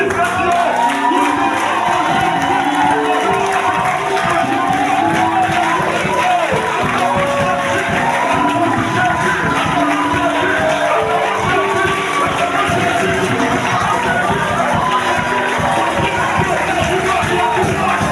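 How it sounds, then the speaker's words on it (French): A church congregation at an installation service cheers and shouts loudly and continuously, with voices, whoops and some clapping blending into a dense roar throughout. "nous acclamons le Fils de Dieu"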